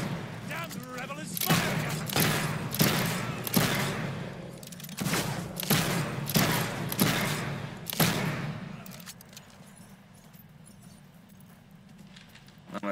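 Revelers fire guns in the video game Fable 3 as a rapid volley of sharp, loud shots in quick succession, tapering off into quieter ambience.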